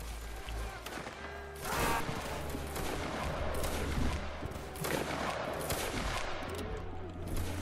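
Infantry musket volleys ring out in a video game battle between the Army of Spain and Highlanders, a dense crackle of massed shots with louder bursts near two and five seconds over steady background din.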